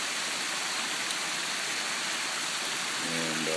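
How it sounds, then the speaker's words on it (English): Steady broadband rush of waterfalls and cascades tumbling over rock along a stream, a constant close wash of water with a faint tonal hum entering near the end. "A lot of rock, a lot of beautiful waterfalls and cascades."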